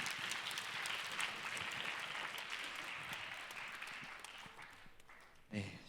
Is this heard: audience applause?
yes